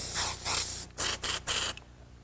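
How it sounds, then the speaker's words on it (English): An airbrush sprays brown paint in several close, loud hissing bursts separated by short pauses, with no talking. "spray some of that brown out, throw a little bit of very light flesh in there"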